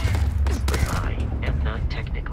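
Rapid shots from a gun in Starfield crack in quick succession over the first second, then thinner mechanical clicks follow while someone talks over the action.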